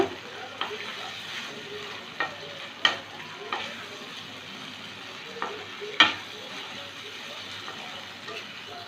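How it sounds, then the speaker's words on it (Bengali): A paste of white sesame, cashew and milk is sautéed with pointed gourd and spices in a pan, giving a moderate sizzle broken by several sharp scraping and tapping strokes of a spatula. "এক মিনিট একটু কষিয়ে নিলাম"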